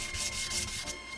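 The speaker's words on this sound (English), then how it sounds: "I'll do most of it with the sanding block" A sanding block scrubbing a motorcycle body part on a Honda NS 250 restoration, a few quick rhythmic rasping strokes, close and alone.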